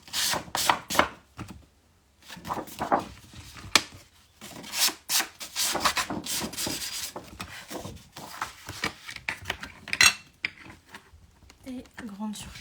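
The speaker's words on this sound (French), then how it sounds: "Alors, on éponge." A sponge is rubbed and dabbed over a handmade album cover in a crafting project, producing close, irregular scrubbing strokes in bursts separated by brief pauses.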